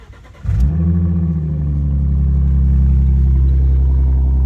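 A 2013 Ford Mustang S197 engine barks into life, then rumbles in a deep, steady, throaty idle recorded close from the cockpit, loud and continuous without talking.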